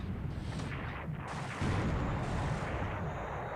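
Naval shells strike warships in the War in the Pacific video game, a dense, continuous rumble of gunfire and impacts with the battle din swelling midway and holding steady, with no talking.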